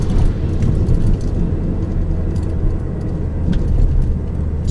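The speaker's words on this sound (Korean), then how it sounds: "클러치를 부드럽게 붙여주면서 가속 페달을 서서히 밟아 나가시면 됩니다" A manual car pulling away as the clutch is smoothly engaged and the accelerator pressed gradually, a loud, steady low engine rumble heard from inside the cabin, with no voices.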